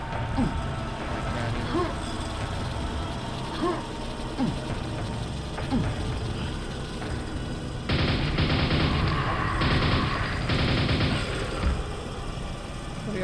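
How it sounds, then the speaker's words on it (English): Rapid mechanical gunfire bursts in the Quake mod Tremor, dense clattering volleys from about eight to eleven seconds over a busy backdrop of game noise and faint sporadic thuds. "Somebody else shooting at me?"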